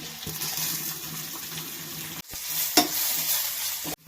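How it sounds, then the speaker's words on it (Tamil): Chopped onions sauté in hot oil with cumin, giving a continuous loud sizzle broken by the scrape and clatter of stirring, with a few sharp spatula knocks near the end. "வெங்காயம் போட்டு நல்லா வதக்கிட்டு இருக்கிறோம்."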